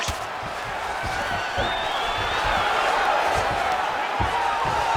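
A video game UFC 5 arena crowd roars and cheers steadily in the background of a simulated fight, a broad continuous wash of noise with a commentator talking over it.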